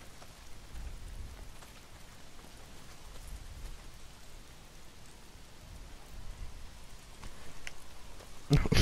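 Heavy rain pours steadily in the video game Days Gone, a constant broadband hiss with low rumbling patches, continuous throughout at moderate level, ending in a louder burst near the end.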